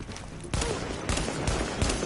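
Explosive bursts from a thrown grenade in the shooter game The Division, with sharp booming blasts at roughly half-second to one-second intervals over a dense layer of game noise.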